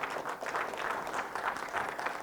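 An audience at a conference session on building DevOps culture claps steadily in a brief burst of applause, moderately loud and even throughout.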